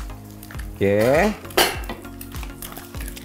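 A metal utensil scrapes and clanks in a pan as chilies are stirred in frying oil for a stir-fried napa cabbage dish, with repeated rhythmic clatters and a brief sizzle. A voice speaks a single short word.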